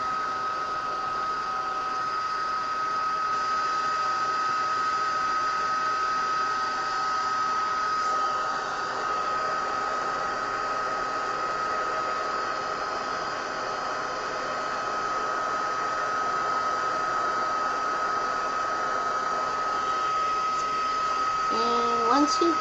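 An embossing heat tool blows steadily on clear embossing powder, a loud continuous whirring hiss of hot air with a faint high whine, running without break, with a voice speaking briefly underneath.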